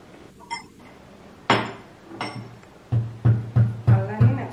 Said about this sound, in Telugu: అల్లాన్ని మెత్తగా దంచి